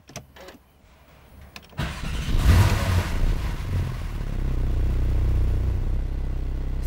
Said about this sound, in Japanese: ではエンジン始動していきます。